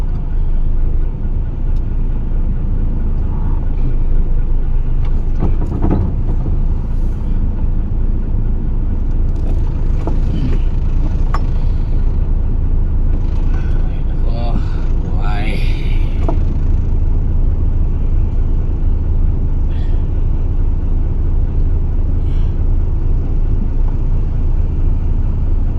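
Jeepneys and other vehicles idle and creep forward in a stalled traffic jam, a steady loud low engine rumble with occasional faint horns and clatter, voices murmuring beneath.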